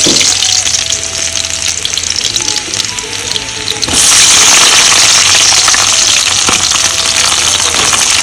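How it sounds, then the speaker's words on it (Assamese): Onion, garlic and capsicum hit hot oil with frying chicken, giving a loud, steady sizzle that swells sharply halfway through as more goes into the pan, with faint stirring and no talk. "এতিয়া পিঁয়াজ নহৰু কেপচিকামখিনি ঢালি দিম নহৰু ঢালি দিওঁ"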